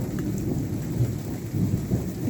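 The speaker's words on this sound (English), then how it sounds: "Lovely thunder it's woke up to." Steady rain patters down during a morning thunderstorm in Dover, UK, with a low, continuous rumble of thunder beneath it and no voices.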